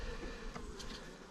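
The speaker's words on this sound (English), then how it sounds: "there's a lot of bees in here" Honey bees buzzing inside an open hive during a hive split, a dense continuous drone with a few brief louder passes of individual bees close by.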